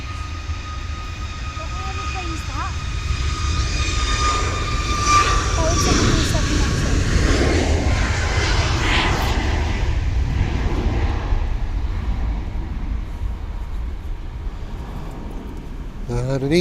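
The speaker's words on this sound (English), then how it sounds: "And an EasyJet is just landing in the background." An EasyJet airliner lands at Manchester, its jet roar rising and swelling at a distance and then holding as a broad, steady rumble behind faint engine tones.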